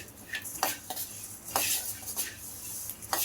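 Coriander seeds dry roasting in a pan over low-medium heat, with steady scraping and stirring, soft rattles and clinks of a utensil against the pan, and a faint hiss underneath.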